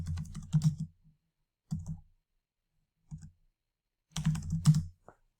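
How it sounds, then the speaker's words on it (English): Quiet, close clicking of computer keyboard keys comes in short bursts of rapid typing separated by silent pauses, with nothing else audible. "I'll type this one again."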